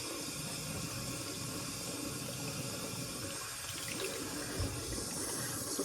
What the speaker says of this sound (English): washing my face with water that was like as hot as I would use on my body